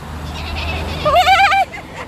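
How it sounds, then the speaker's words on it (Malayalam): A single short, wavering lamb bleat rises briefly over a low background hum in outer London, then fades out. "അത് ആട്ടിൻകുട്ടിയല്ലേ"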